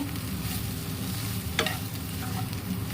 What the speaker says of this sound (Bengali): এখানে ফুলকপি ভাজা বসাবো যে অনেকটা ভাজা হয়ে গেছে লবণ হলুদ জিরে গুঁড়ো দিয়ে